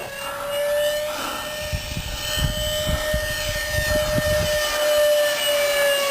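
A Nitro Planes F15 camo RC jet with a 64mm ducted fan flies overhead, a steady high-pitched whine that slowly bends in pitch as it passes, with a low rumbling roar underneath and no talk.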